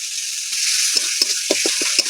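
Tomato and dried chilli paste fries in a pan under a constant bright sizzle, while a spoon scrapes and knocks in a quick series of low, rhythmic strokes toward the end.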